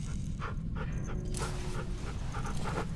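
A dog pants in a zombie-survival video game, soft rhythmic breaths over a steady low background hum, close and fairly quiet, with brief whimpery sounds.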